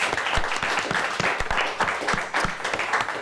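A quiz show audience claps steadily, dense overlapping applause with no pauses, sustained at an even level for the whole stretch.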